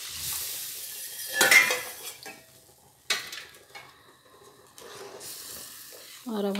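A spoon stirs and scrapes semolina roasting in a hot pan, with intermittent metallic clinks and soft sizzling in short bursts, close and fairly loud, and quiet gaps between strokes.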